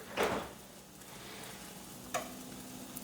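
Cheese cooking in a Gipp non-stick pan, giving a soft steady sizzle with two brief clinks or scrapes near the start and again after two seconds.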